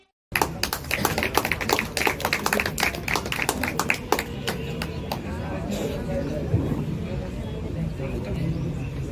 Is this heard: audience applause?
yes